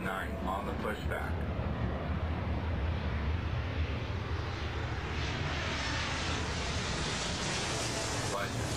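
Airliners taxiing in the Airport Madness World Edition air traffic control game give a steady, unbroken jet engine roar that stays even in level from start to finish.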